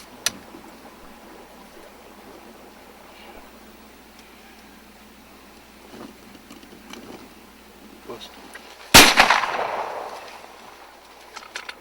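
One loud, sharp gunshot is fired at a buck on a deer hunt, breaking a quiet outdoor stretch where low voices murmur. A brief rumbling tail follows the shot.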